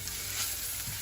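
Garlic fries in a generous amount of oil while mustard-green gundruk is being cooked, giving a constant, even sizzle close by with no talking.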